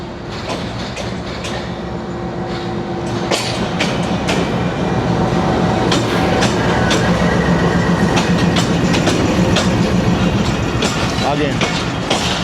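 The coaches of the 39 Up Jaffer Express, a Pakistani passenger train, rumble past close by with loud steady wheel roar, rhythmic clickety-clack over rail joints and a brief metallic squeal, heard from inside or alongside the moving train.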